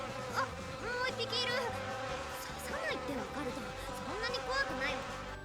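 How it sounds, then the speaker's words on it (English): Buzzing of a giant hornet in a visual novel game, a steady insect drone under lively overlapping voices and background music. "That's a giant hornet."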